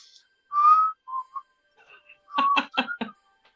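A person whistles a few short, bright notes, pausing between phrases, then a quick run of choppy tones, close and fairly quiet.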